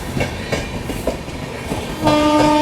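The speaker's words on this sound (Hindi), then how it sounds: "ये ट्रेन ओवरटेक कर रही है।" A special passenger train running from Kanpur Central to Madurai Junction overtakes on the line, its wheels rumbling with steady clickety-clack and a sustained horn blast near the end, loud and close.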